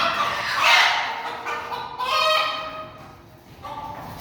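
Village hens being caught on a farm give out loud, agitated squawks and clucks close by, rising in two frantic bursts over a quiet background.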